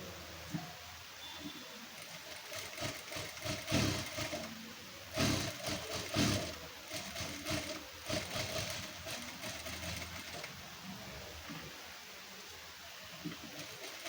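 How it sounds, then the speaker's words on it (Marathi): Sewing machine running fairly quietly while stitching the neckline of a leaf-neck blouse, with uneven bursts of whirring between short pauses. "आता आपण 1/2 इंच अंतर ठेवून टीप मारून घेणार आहोत"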